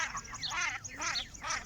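Several raspy quacks from fighting ducks on a river come in quick bursts, close and fairly loud, with no talking.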